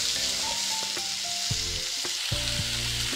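Calabresa sausage and bacon browning in a hot pan give a steady, close sizzle and crackle with a few stirring scrapes and clinks, no talking.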